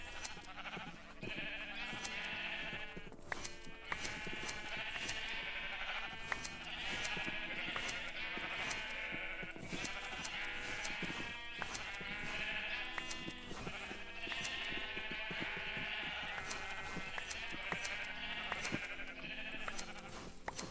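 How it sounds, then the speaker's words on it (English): Sheep bleat over and over in the video game Ancient Kingdoms, their wavering cries repeating steadily and close for the whole stretch against a full game soundtrack, with no one talking. "Now that I have sheep of every color"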